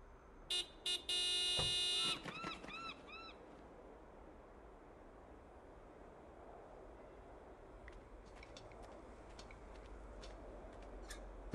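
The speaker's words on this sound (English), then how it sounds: "Do me a favor and honk the horn." A car horn in the video game Broken Sword 5 blares with a loud, buzzy tone: a short blast, then a longer held honk. Chirping and ambient game sounds follow at a lower level.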